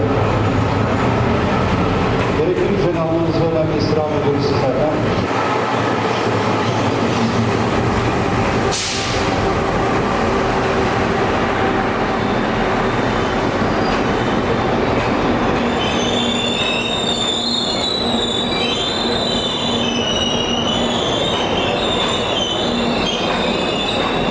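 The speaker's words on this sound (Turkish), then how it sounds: "üyelerimizi taşıyan trenin şu anda perona yanaşmak üzere" A passenger train carrying coders pulls into a station platform, rumbling loudly and steadily, with clattering wheels and high squealing brakes building toward the end, and no talk.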